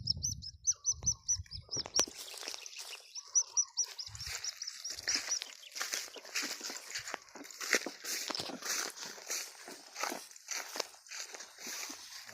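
Small birds chirp in high, quick repeated tweets near a riverside path, the calls continuing over soft rustling and footsteps with no talking.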